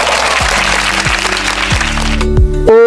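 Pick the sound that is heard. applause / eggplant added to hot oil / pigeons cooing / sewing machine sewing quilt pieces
applause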